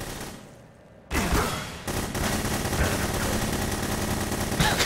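Gunfire in the game The Hidden: after a brief quieter moment, loud sustained rapid shooting starts and carries on as a dense volley.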